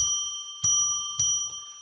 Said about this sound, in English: let's ring a bell 3 times now to declare sacred space